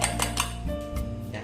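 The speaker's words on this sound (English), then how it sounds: "and we'll just whisk it a little bit. Whisk it nicely." Chicken finger mixture whisked in a bowl, with quick metallic taps and scrapes of utensil against dish close up, in a short rhythmic burst.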